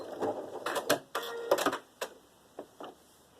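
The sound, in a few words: sewing machine stitching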